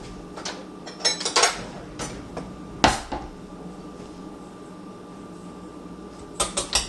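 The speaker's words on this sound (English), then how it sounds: "Let me grab another spoon here." Spoon and dishes handled in a kitchen: scattered clinks, knocks and scrapes, one sharp clatter near the middle and a few quick rattles at the end over a faint steady hum, with no talk.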